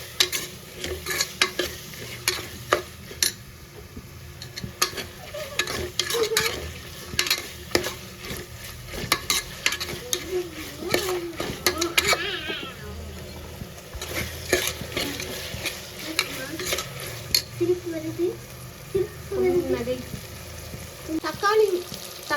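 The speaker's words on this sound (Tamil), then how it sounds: "தக்காளி வந்து வதக்கிக்கலாம்" Tomatoes sauté in a pan for chicken kurma, giving a continuous crackling sizzle. Repeated scrapes and clinks of stirring run through it, with a few soft sputters. There is no talk.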